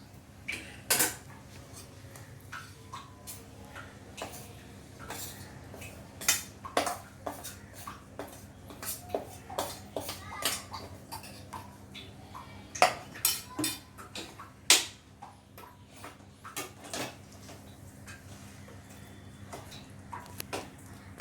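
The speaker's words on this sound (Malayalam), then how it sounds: "ഇനി ബാക്കി പൊടികൾ ഇതിലിട്ടിട്ട് മിക്സ് ആക്കാം" Laddu powders mixed in a bowl for dry fruit laddu, heard as irregular clinks and scrapes of a spoon against the bowl over a quiet background, with sharper knocks now and then.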